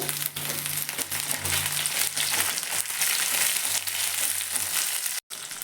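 Tomatoes fry in a pan with onions for a crab-claw gojju, giving a steady, dense sizzle close by that carries almost unbroken for about five seconds, then drops out briefly near the end.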